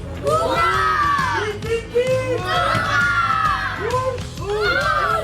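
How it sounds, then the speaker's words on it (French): Spectators at the 2022 14th-arrondissement Olympiades Sportives finals cheer and whoop, children's shrill shouts rising in waves over a continuous crowd roar that stays close and loud throughout. "Bravo, on applaudit"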